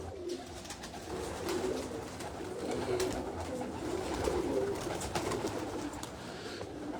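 Prized pigeons at a garden loft in Islamabad coo in a soft, continuous murmur, moderately close, with faint background rustle and no talk.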